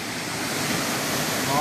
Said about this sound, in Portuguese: Olha, aqui nós temos visão das duas quedas d'água.